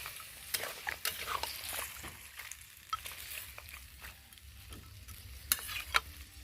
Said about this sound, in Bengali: দিয়ে আর একটু ভালো করে নেড়ে দেবো।